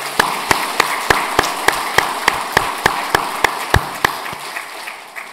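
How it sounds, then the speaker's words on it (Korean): A church congregation at a Korean Sunday service claps together in a steady, regular rhythm, sharp claps evenly spaced over a continuous wash of crowd noise. The beat slows and softens near the end. "큰 박수로 축복하겠습니다"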